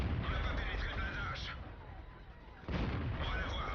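Tank guns fire in an armored video game battle, two or three heavy booming shots with rumbling tails, fairly faint and under a narrator's voice.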